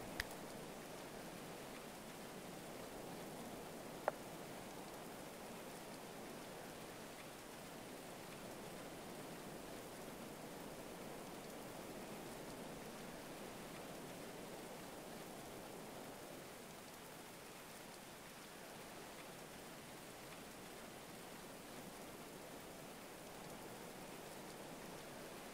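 Rain in the game Going Medieval falls as a faint, steady hiss that holds unchanged for the whole stretch, with a single tiny tick early on.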